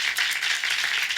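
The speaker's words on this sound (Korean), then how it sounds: "먼저 우리 하나님께 박수로 영광 돌리겠습니다" A church congregation claps together during a Sunday morning worship service, a dense, continuous patter of many hands sustained evenly throughout at moderate loudness with no voices over it.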